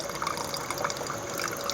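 Acid liquid shaken out of a container during silver contact refining, heard as a steady wet splashing and trickling that runs throughout at moderate level with no voices.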